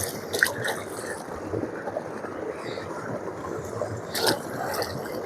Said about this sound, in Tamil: கொய்யாக்கா கழுவிக்கலாம்.